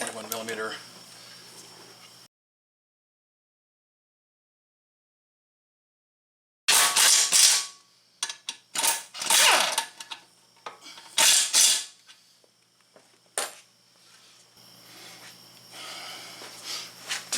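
Bolts on the front wheel bearing of an Audi A8 D4 being tightened by hand: a cluster of sharp, close metallic ratcheting bursts in uneven rhythm, following a stretch of near silence and low handling noise.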